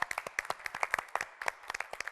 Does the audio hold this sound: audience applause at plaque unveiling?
yes